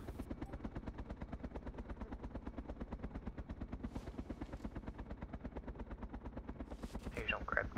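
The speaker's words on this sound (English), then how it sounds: "I hear a chopper." Helicopter flying nearby in the video game DayZ Epoch, a steady rapid rotor chop that stays loud and continuous throughout, with faint voices and brief game noises on top.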